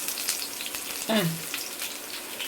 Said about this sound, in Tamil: சிம்மில் வச்சே வறுத்து எடுத்துருவோம்